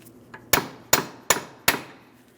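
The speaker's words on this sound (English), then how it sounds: "Continue on with a hammer and punch directly in the center here." A hammer drives a punch against the center of a rear CV axle on a 2005-2010 Chrysler 300 5.7L V8. Four loud, sharp metallic strikes ring out at a steady, even pace after a light tap.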